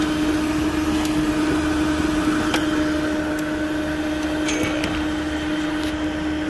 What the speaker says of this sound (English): So that direct drive, electronically driven fan motor is no joke.